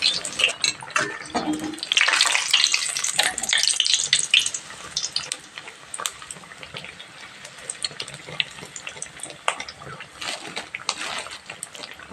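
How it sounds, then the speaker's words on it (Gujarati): Bread pakoda sizzles and bubbles as it fries in oil in a large pot, a steady hissing crackle with occasional bursts, close up, while a person talks over it. "આપણા બ્રેડ તળાઈ જશે, આ રીતના ખુલી જશે"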